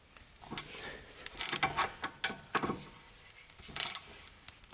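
A 15 mm wrench and ratchet work on a rear brake bolt of a Range Rover, producing faint close metallic clicks, scrapes and rubbing in irregular bursts.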